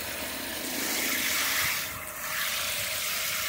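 Water streams from a portable camp shower outdoors in the desert beside a van, a steady hiss of flow with a brief dip in the middle.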